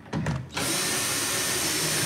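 Battery-powered power drill starting up close by with a short burst of stuttering bursts, then running at a steady, loud, continuous whine.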